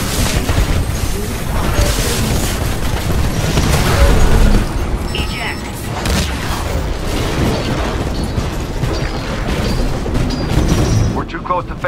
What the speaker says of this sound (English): Spinning up the cannons for another shot.